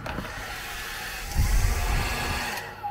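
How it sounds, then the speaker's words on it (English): A steady, breathy whoosh of a motel room hair dryer blowing, growing a little louder and fuller partway through, with no voices. "Does the hairdryer work?"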